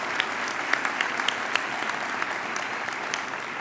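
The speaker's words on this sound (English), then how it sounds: "students, round of applause for all of our family members that are here today" Sustained applause from a large crowd at a high school graduation ceremony, a dense steady wash of clapping with scattered sharper claps standing out, filling the whole moment without talk.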